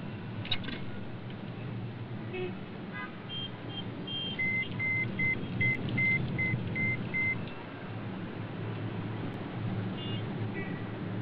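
A telephone sounds in a film scene with a series of short electronic beeps, evenly spaced and moderately loud, over a low room background.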